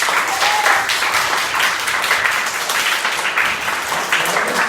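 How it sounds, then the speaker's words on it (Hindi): An audience of children and adults claps, a loud, dense, continuous round of applause up close that runs steadily throughout. "तो सारे अच्छे लोगों के लिए जोरदार ताली।"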